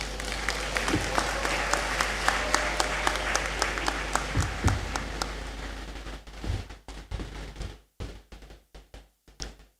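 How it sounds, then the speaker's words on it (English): An audience in a great hall applauds at a university congregation ceremony, steady dense clapping that thins into scattered claps and knocks toward the end. "Let's give him another round of applause."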